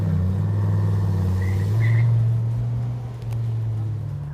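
Dodge Viper engine running on the road, a steady low droning rumble with a slight rise in pitch midway, close and continuous throughout.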